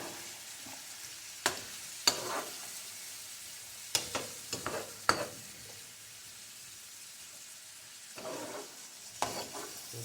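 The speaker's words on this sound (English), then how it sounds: "I'm gonna turn it down and just kind of stir it a little bit." Rice cooking down in a pan on lowered heat is stirred with a utensil, giving several distinct scraping, clattering stirs in bursts over a faint steady sizzle, with no talking.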